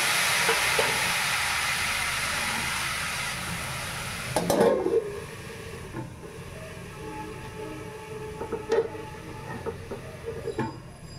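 Water sprinkled over chira pulao (flattened rice) frying in a pan, with a loud steady hiss that drops sharply as the lid goes on, followed by faint bubbling and a few clinks under the lid.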